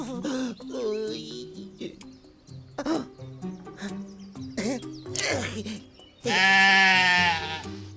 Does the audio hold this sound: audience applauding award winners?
no